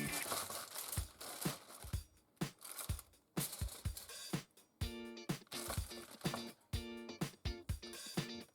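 Wet baking paper crinkles and rustles in bursts while being folded around a lamb leg in a kitchen, close and fairly quiet, with repeated sharp crackles interspersed with pauses and a voice speaking between.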